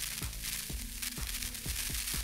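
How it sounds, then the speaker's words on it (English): A harsh burst of glitchy static crackles with rhythmic stuttering thumps underneath, dense and noisy throughout, without any talking. "I use this tweeter effect"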